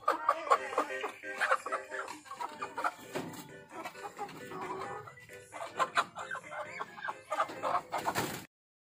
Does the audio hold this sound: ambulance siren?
no